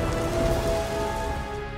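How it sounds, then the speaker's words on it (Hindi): Rain falls in a dense, steady hiss of drops hitting a surface, continuous and fairly loud for the whole short stretch, with no voices. "बरसातें"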